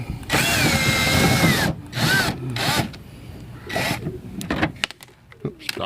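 Power drill backing out a 10 mm screw holding the headlight-area fascia corner on a second-generation Toyota Prius, several short whirring bursts of varying length, close and fairly loud, with brief pauses between.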